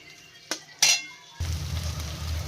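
Cauliflower greens fried with potato and bori are stirred in a pan: two sharp clinks of a utensil against metal, followed by a steady close frying sizzle with light scraping.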